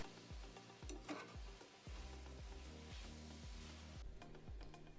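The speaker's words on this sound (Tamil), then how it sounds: "3 டேபிள் ஸ்பூன் இஞ்சி பூண்டு பேஸ்ட்டு போட்டு நல்லா வதக்குங்க" Ginger garlic paste, three tablespoons, sautéing in a pan over a medium flame: a steady close sizzle with regular rhythmic stirring scrapes throughout, no talking.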